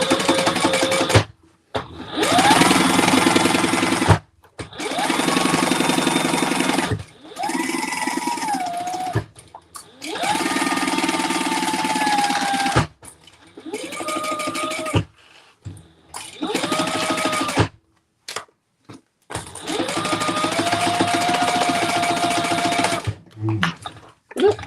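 A sewing machine runs in bursts of several seconds each while a bag is sewn, stopping and restarting with brief quiet gaps between runs.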